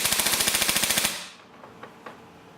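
A Tokyo Marui SOPMOD M4 airsoft gun firing a quick automatic burst of about a dozen rapid, even shots lasting roughly a second, followed by a quiet workshop room with a couple of faint clicks.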